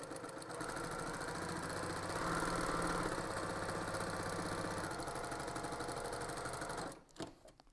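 A sewing machine stitches through the corner of a sports-star quilt, a quiet, steady mechanical whir that rises slightly partway through and then stops, followed by a few soft clicks.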